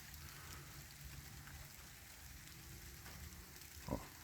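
Steady rain falls in a soft, even hiss, with a brief knock near the end.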